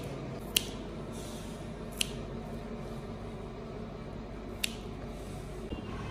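Kitchen scissors snip the stems off green peppers in three sharp, isolated clicks spaced a second or two apart, close and quiet over a faint steady room hum.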